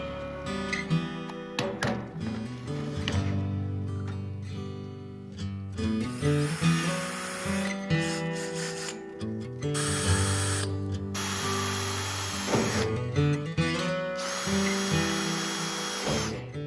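A power drill whines in bursts against steel from an old fuel tank, loud and close, with a harsh high-pitched grinding as the bit bites, pausing and restarting several times.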